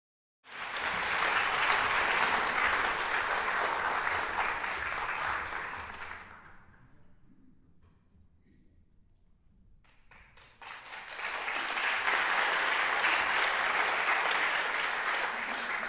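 Warm, dense applause from a concert hall audience at a memorial concert for Professor Peng Ming-min welcomes two singers. It comes in two sustained bursts separated by a quiet lull of a few seconds.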